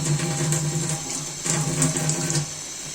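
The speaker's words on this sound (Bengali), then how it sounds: "ব্লেন্ডার জার ধুয়ে পানি দিয়ে দিচ্ছি" Tap water runs steadily into a blender jar as it is rinsed in a kitchen sink, a continuous close splashing rush with slight surges, no voices.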